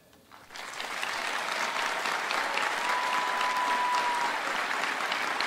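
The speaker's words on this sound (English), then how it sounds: "So let's all applaud our newest alumni" Sustained applause from a large audience at a College of Science undergraduate diploma ceremony, rising quickly after a brief quiet start and holding steady and dense throughout.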